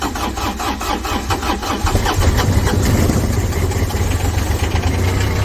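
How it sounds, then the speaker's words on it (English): A small diesel tractor engine cranks from a cold start with rapid chugging strokes, then catches and settles into a loud, steady, rumbling idle close by. "Let's see if she fires up this little diesel tractor."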